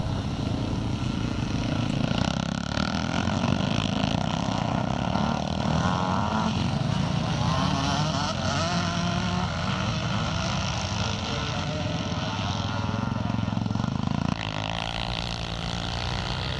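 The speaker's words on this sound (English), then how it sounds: "number 176, that's Colin Lee riding that JBR 4-stroke Honda machine" A JBR four-stroke Honda scramble motorcycle races at a classic scramble meeting, its engine droning and rising through the revs at a moderate distance, with a commentator talking over it until the sound drops away near the end.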